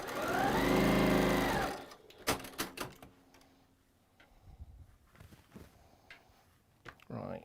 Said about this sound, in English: it didn't take long to sew them all together